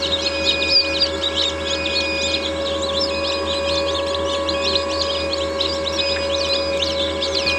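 Chickens and young chicks kept in a coop make steady clucks and high chirps throughout, fairly close and continuous over a low background hum.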